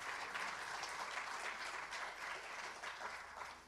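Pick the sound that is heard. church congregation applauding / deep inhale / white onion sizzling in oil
church congregation applauding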